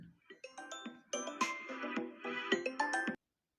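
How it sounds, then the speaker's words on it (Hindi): A phone ringtone plays a bright, melodic electronic tune of stacked tones for about three seconds, then stops abruptly. It interrupts a recorded Hindi poetry lesson and sounds close and fairly loud, with no talking over it. "बीच में फोन आने से डिस्टरबेंस हो गई।"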